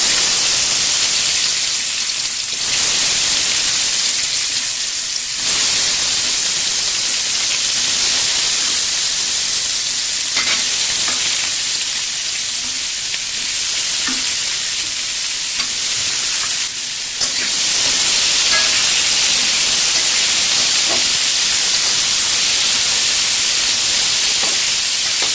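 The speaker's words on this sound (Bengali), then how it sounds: "এখন আমি আলুগুলি ভাজার জন্য দিয়ে দিলাম।" Potatoes frying in hot oil in a home kitchen, added after cumin, dried chilli and bay leaf were tempered in oil left from frying chhana; a steady loud sizzle runs throughout with occasional stirring scrapes and no talk.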